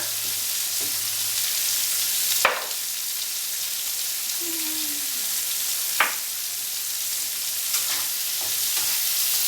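Food fries in oil in a pan while being cooked for a low-carb quiche, giving a steady soft sizzle throughout with a few sharp clinks and stirring knocks from utensils; no one speaks.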